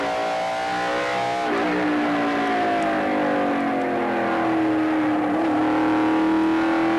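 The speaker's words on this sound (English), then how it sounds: "listening to Bill Clements Jr. on and off the throttle" Onboard a stock race car during a 1999 USAR Hooters Pro Cup race at Greenville-Pickens, the engine drones loudly and continuously, dipping briefly as the driver lifts off the throttle and then climbing again as he gets back on it.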